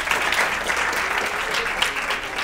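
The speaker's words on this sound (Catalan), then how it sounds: "Un aplaudiment per ells." Studio audience at a Catalan TV school quiz show applauds the Salesians de Sabadell contestant team, brisk steady clapping throughout at moderate loudness.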